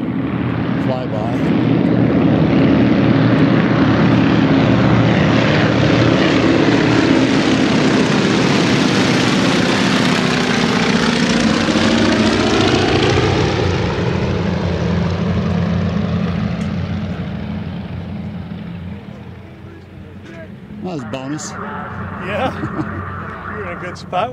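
A B-17 bomber makes a low flyby, its piston engines and propellers building to a loud, throbbing drone that peaks overhead and drops in pitch as it recedes; a few clicks and faint background voices follow near the end.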